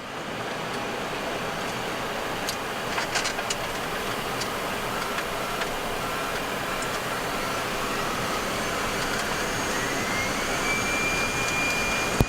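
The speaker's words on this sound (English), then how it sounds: "Takeoff thrust set." Boeing 737 Classic jet engines spooling up to takeoff thrust, a loud steady roar with a rising whine, heard from the cockpit with faint clicks and no talk.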